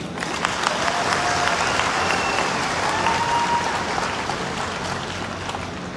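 Sustained, loud applause from a seminar audience at a business event, continuous clapping filling the whole stretch with a steady crowd wash and no pauses.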